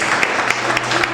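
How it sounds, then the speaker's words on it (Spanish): A church congregation applauds during a worship service: a brief burst of dense, even clapping from many hands, filling the room at steady volume. "te damos este fuerte aplauso porque tú te lo mereces por siempre"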